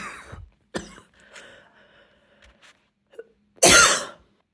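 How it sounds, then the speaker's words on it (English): A few scattered coughs and throat sounds, ending in one loud, harsh cough close by, with quiet pauses between. "letting you hear me cough"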